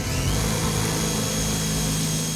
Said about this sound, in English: I've called one of the lads to come and drill the lock out so we can put the crate locks back on.